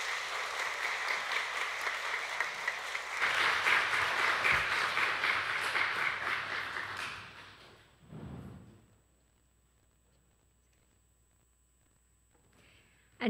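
A church congregation claps as a deaconess comes forward. The applause is steady and fairly loud for about seven seconds, then dies away, leaving a few shuffles and near silence.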